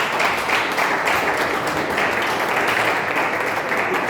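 Audience applause at a church teaching session in Bogotá, Colombia: steady, dense clapping from a crowd that holds at an even level for the whole stretch, with no voices over it.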